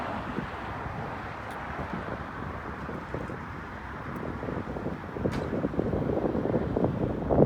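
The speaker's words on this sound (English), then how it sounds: "Sorry about the road noise there, it's a little loud." Continuous broadband rumble of passing road traffic from a roadside spot, steady and fairly loud, swelling toward the end as a vehicle goes by, with no talking.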